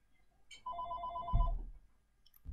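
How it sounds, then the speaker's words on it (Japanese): A telephone rings once indoors, a short electronic ring with a steady pulsing tone lasting about a second, followed by a soft thump and quiet room noise. "電話。"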